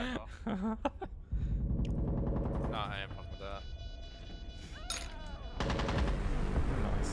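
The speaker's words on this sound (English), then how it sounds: "Oh, I'm getting shot." Gunfire in the video game Rainbow Six Siege crackles in rapid automatic bursts, fairly loud and steady, with players talking and laughing over it.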